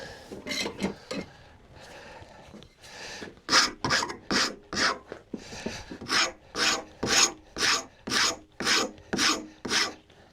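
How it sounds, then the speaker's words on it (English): A rasp files across wood for a dog gate in rhythmic back-and-forth strokes, first irregular, then a steady run of about a dozen loud, close rasping passes. "Rasp."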